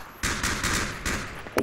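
Burst of automatic gunfire in the Project Reality mod, several rapid close shots in quick succession followed by a sharper final crack, loud and alone without talk.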